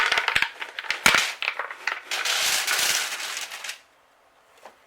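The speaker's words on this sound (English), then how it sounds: "we go ahead and dump the bullets in there" Powder-coated lead bullets tumble into a metal basket, a close, loud run of clattering, rattling impacts for about four seconds, then quiet apart from one soft knock.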